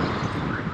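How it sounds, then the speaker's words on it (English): Loud, constant wind buffets the microphone while skateboarding in Bogotá, Colombia, with a dense, roaring rumble and no pauses. "It is crazy windy, yo."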